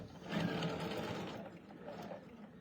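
A sewing machine stitches a curved quilt seam, its motor humming in a steady fast whir that swells early and tapers off near the end, quiet and close.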